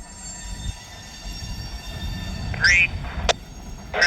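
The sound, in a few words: train moving along rails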